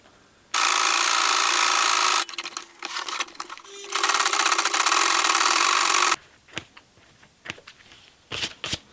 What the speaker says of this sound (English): So I want to sew it in the middle along this section here